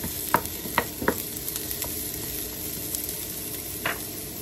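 White onion sautés in a pan with garlic for pinakbet, giving a steady soft sizzle broken by a few sharp scraping clicks as it is stirred.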